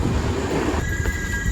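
A passenger train runs on rails late at night on a long-distance journey from Assam toward Kanyakumari in Tamil Nadu, with a close, steady rumbling roll and a thin metallic wheel squeal rising in the second half.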